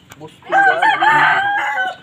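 A rooster crows loudly and close by, one long drawn-out cock-a-doodle-doo lasting most of the clip.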